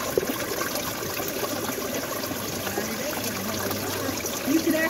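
Water trickles steadily into a hole among rocks beside a mountain trail, a constant close, soft gurgling dribble with no voices.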